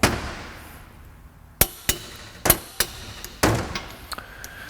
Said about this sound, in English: hope I just torqued that for the last time